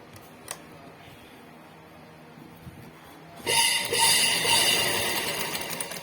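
A sewing machine stitches fabric for a nightie, starting abruptly after a quiet stretch with a faint tick and running in a loud, steady mechanical whir close by.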